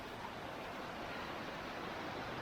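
Broad, unbroken whoosh of rapids rushing along a river next to a Gatlinburg trail, steady and enveloping from start to finish, with no one speaking.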